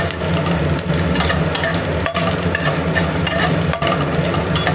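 Cashew nuts, coconut and raisins fry lightly in a pan with hot oil, giving a steady, close crackling sizzle with scraping stir sounds, briefly dipping twice as the pan is moved.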